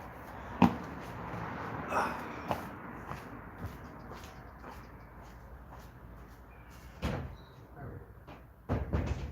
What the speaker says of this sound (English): I'm just going to open the door for the cat